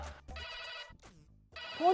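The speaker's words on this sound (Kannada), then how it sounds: "ಫೋನು" A telephone rings in two bursts of trilling electronic tone, separated by a short pause, fairly close, in a domestic setting.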